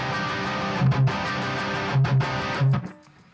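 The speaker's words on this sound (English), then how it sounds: "And we try to have the palm mutes to sound really even." An electric guitar plays even, palm-muted downstrokes at full speed, giving a dense, chugging rhythmic tone with a few accented low thumps. The playing stops abruptly near the end.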